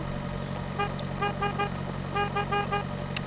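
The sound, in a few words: car horn honking in Pure Farming 2018 video game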